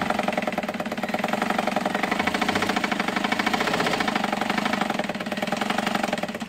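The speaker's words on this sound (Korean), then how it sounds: "일단 모터를 장착해서 모터의 힘으로 기계의 원활한 회전을 도와주겠고" An electric motor fitted to an old hand-crank dress sewing machine drives it in a continuous, rhythmic mechanical whir with a fast repeating clatter, steady and close.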